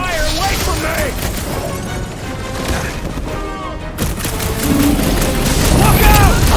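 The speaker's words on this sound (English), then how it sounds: "I hear way too much shooting!" Gunfire and explosions in a firefight from the video game Guardians of the Galaxy: continuous loud booms and dense crackling shots, with voices shouting over the din.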